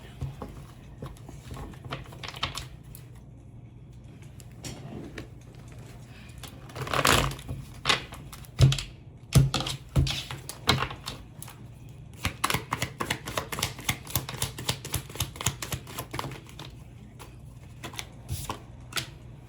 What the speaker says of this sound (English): Let me calm down and reshuffle.